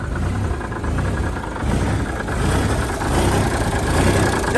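A Freightliner dump truck engine with a worn muffler runs at a steady idle, a continuous loud low rumble with rough exhaust texture and no pauses.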